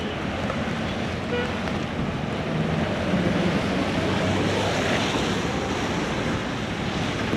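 Steady roar of surf and wind at a beach near Kushalnagar, India, continuous and loud, with waves washing in without pause.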